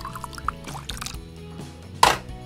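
Water is poured into a toy coffee maker during Play-Doh pretend cooking, giving soft trickling and small plastic knocks, then a brief louder splash near the end.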